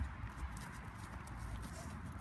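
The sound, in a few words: horse hooves during a riding lesson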